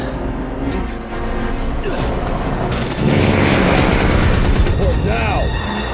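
Gunfire and booms in an action movie fight scene, with sharp repeated shots and heavier impacts building into a loud, dense barrage alongside music and shouted dialogue.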